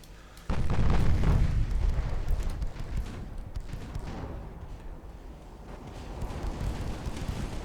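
Rapid 3-inch guns firing at enemy ships in Ultimate Admiral Dreadnoughts, a sudden loud onset settling into a continuous dense rumble of shots and booms.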